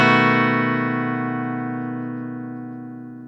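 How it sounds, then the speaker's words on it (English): Guitar bass note struck first, then the rest of the chord raked with a plectrum, ringing out and sustaining with a slow, even decay, played alone. "you play the bass first and then rake the rest of the chord"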